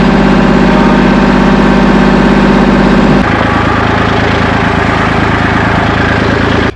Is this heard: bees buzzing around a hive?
no